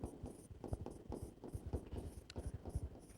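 Pen or pencil writing out programming code by hand, a soft, faint, rhythmic scratching of short strokes with no speech.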